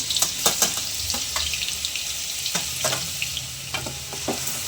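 Crushed garlic sizzling in hot oil for a spicy garlic chutney, a steady close frying hiss with occasional sharper crackles and pops, no talking.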